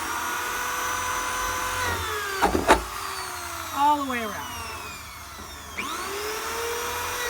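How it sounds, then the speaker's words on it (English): Power drill boring a series of holes around a 55-gallon drum about six inches from the bottom, for an outhouse septic setup; short whining spin-ups wind down between bursts, with someone talking nearby. "I'm going to go about 6 inches from the bottom,"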